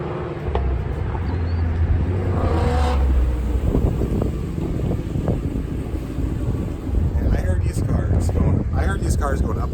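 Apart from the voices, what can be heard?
Ford Mustang GT350 with Whipple supercharger driving on road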